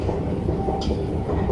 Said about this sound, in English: Two trains.